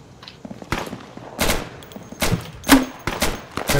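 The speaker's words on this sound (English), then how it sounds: "Oh, that's definitely a slug." A shotgun fires slug rounds in the video game Insurgency, about five loud, sharp blasts spaced roughly a second apart, each followed by a brief decay, with faint footsteps and game noise between shots.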